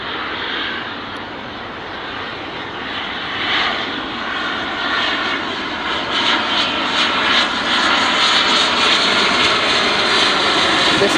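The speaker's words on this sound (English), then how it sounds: "This is the Dassault Falcon 50 coming in for an arrival" A Dassault Falcon 50 tri-jet arrives at Dulles, its loud, steady jet engine roar and whine building slightly as it passes fairly close.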